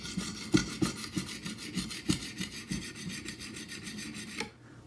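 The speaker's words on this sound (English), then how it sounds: "I sharpened on the right side of the cutting edge" Knife edge being sharpened by hand on a stone, a rapid rhythmic series of about twenty rasping strokes, close and clear, ending abruptly in quiet.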